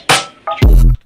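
Short excerpt of a music mix with reverb automation applied to one small section: a bright burst, a brief tonal phrase, then a loud bass-heavy hit that cuts off, leaving a faint reverb tail.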